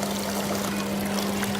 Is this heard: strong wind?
no